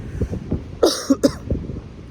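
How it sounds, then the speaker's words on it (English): A short burst of harsh coughing, two or three quick hacks close to the microphone, set between quiet murmuring sounds. "got a bit of a bad cough at the moment"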